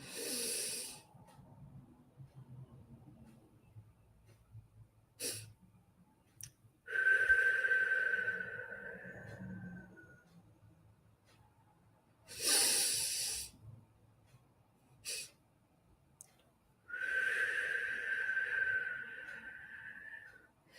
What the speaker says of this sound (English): breathe out longer. Do it again. Breathe in.